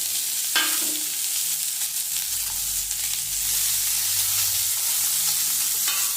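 Steady oily sizzling of chopped pirandai (veld grape) frying in oil in a pan, with a few soft stirring scrapes and clinks, close and continuous without speech.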